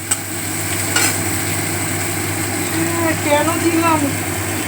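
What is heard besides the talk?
kitchen chimney exhaust hood running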